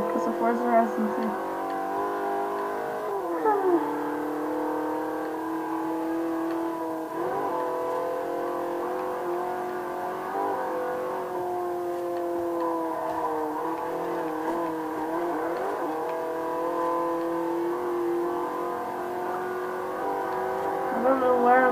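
BMW M3 engine in Forza Horizon 3, a steady driving drone with shifting revs and gear changes throughout, with a person talking over it.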